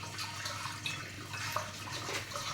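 Hot water gushing out through a pump on a steam distillation setup making eucalyptus hydrosol, a steady broadband rush and splash that runs continuously and fairly close, with no voices.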